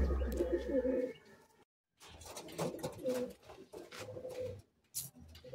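Madrasi pigeons at a village home coo in repeated low throaty bursts, fairly close, with a short silent gap midway and scattered higher bird noises and rustling around them.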